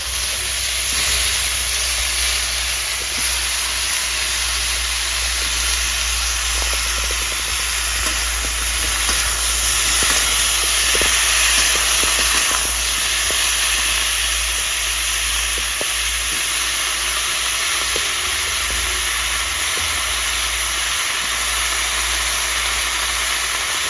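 Cut pumpkin frying in a pan over a clay stove gives a steady, loud sizzle and hiss that holds evenly throughout, with no voices over it.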